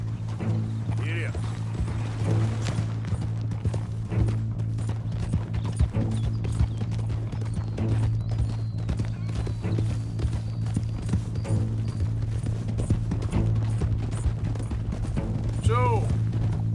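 Horse hooves clip-clopping in a steady rhythm throughout, close and continuous, with a low mechanical rattle underneath and people talking over it.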